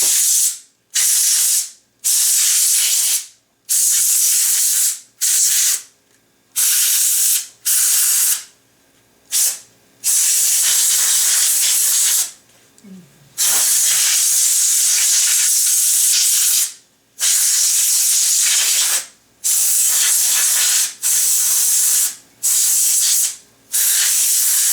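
Short bursts of canned air spraying into a Panasonic RF-511 radio, a sharp loud hiss repeated about a dozen times with brief silent gaps between, plus a few faint clicks.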